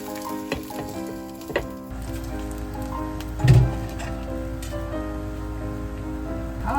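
Vegan hambagu patties sizzle and crackle steadily in a frying pan, a close, continuous fry with a louder pop near the middle.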